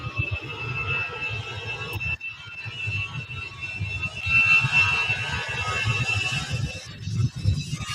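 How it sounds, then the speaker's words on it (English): An easyJet airliner departs Manchester Airport for Belfast, a moderate, rumbling jet noise with a thin high whine that builds slightly toward the end. "EasyJet heading off to Belfast"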